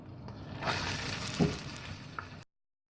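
Green chillies and chopped onions fry in hot oil, a close, steady sizzle that swells after the first half second and stops abruptly before the end.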